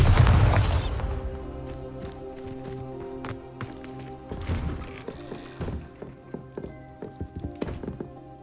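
A Bombarda spell blast in the video game Hogwarts Legacy hits with a loud, booming burst at the start, followed by scattered thuds and clattering debris in a magical game setting.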